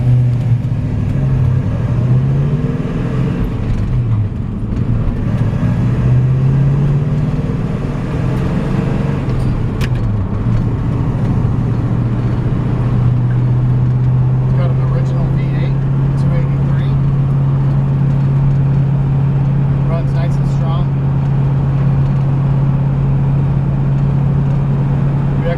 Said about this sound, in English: This is a 1959 Chevrolet Apache. I'm gonna take it for a quick drive